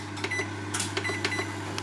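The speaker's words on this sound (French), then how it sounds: "on va réchauffer un plat au micro-ondes" A microwave oven heats a dish while drawing about 1200 watts from a FOSSIBOT F3600 solar power station, giving a steady, even electrical hum with faint clicks and no talk.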